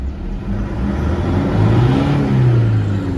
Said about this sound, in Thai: เดี๋ยวเราเล่นเครื่องชนหน่อย